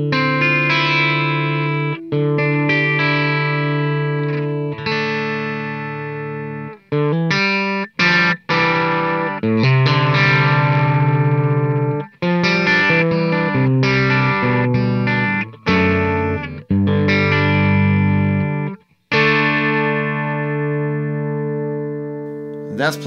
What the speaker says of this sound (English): That's plugged straight in, no verb, no nothing, just the tone from the amp, and it sounds pretty good.